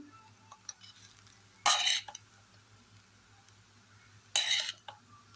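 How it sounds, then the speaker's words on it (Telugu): A spoon stirs egg rice in a pan, producing two bursts of loud scraping and clattering against the metal, separated by a quiet stretch. "ఈ విధంగా మొత్తం కలిసేలా కలుపుకోవాలండి"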